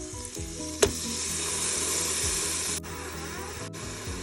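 Chopped onion sautés on medium browning in a Cookeo multicooker, giving a steady, close sizzle with a sharp tap near the start and a few quick clicks later, all without voices.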